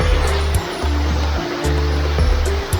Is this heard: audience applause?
no